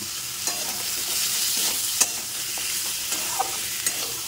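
Cut potatoes frying in a spice masala, with a steady sizzle and repeated scraping stir strokes, close and moderately loud, with no talk.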